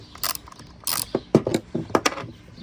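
Ratchet tool loosening the cover on a STIHL MS 291 chainsaw, heard as a few short, close bursts of sharp clicking separated by brief pauses with no talk.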